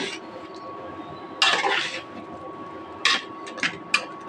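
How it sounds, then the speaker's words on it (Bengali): A spoon stirs coriander leaves into boiling hot tomato sauce in a pot, making a few sharp metallic scrapes and clinks against the pot over a quiet simmering background. "ধনিয়া পাতাটা দিয়ে কিছুক্ষণ নাড়াচাড়া করি"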